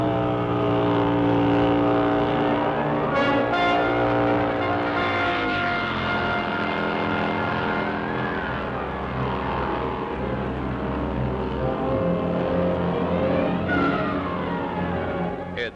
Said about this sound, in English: Now, father and son join in their famous motorcycle act